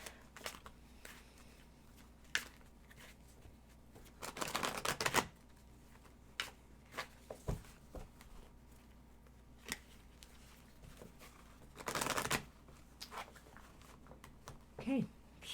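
Tarot or Lenormand cards being shuffled by hand, a series of brief riffling and sliding bursts, two longer ones among scattered soft ticks and clicks, close and fairly quiet.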